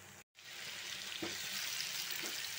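Chopped tomato fries in masala in a pan, giving a steady close sizzle after a brief gap, with a couple of soft stirring scrapes. The sound is quiet overall.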